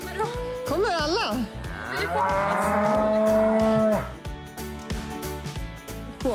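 A cow on a farm lets out a loud, close, drawn-out moo with a rising and falling pitch, followed by quieter rustling and background noise.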